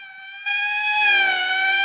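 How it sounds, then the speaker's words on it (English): A wailing emergency siren sounds loud and steady, its tone rising slightly as it continues, with a low rumble joining underneath partway through, as if a vehicle is passing close by. "That's the fifth siren in the last hour."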